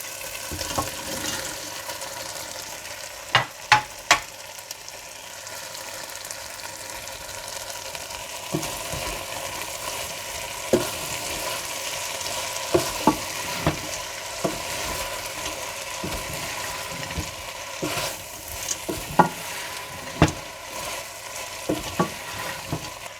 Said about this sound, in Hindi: इसके बाद इसमें फ्राई की हुई भिंडी और हरा धनिया डालकर मिला लें।